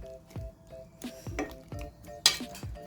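Chicken curry being stirred in a cooking pot gives wet, squelchy stirring strokes at an uneven rhythm, with a bright metallic clink of the utensil against the pot near the end. Close and fairly quiet, with no speech.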